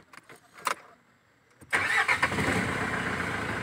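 2009 Mitsubishi Strada GLS pickup engine starting: a few faint clicks, then the engine catches loudly and settles into a steady, close idle with no talk.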